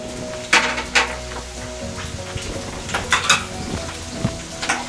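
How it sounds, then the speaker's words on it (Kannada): Crushed garlic cloves frying in hot oil in a pan, with a steady soft crackle under clinks and scrapes of a utensil against the metal pan, close by, with no talking. "ಬೆಳ್ಳುಳ್ಳಿ ಸ್ವಲ್ಪ ಫ್ರೈ ಆಗಲಿ."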